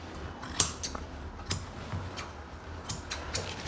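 Straight grooming scissors cut the hair on a small dog's back end, giving a few crisp, quiet snips spaced irregularly over a soft background with no talking.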